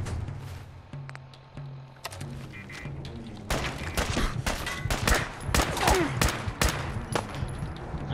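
Sustained gunfire from the video game Fallout 4, sharp shots and rapid bursts crowding the second half, loud and close, with a bit of speech early on.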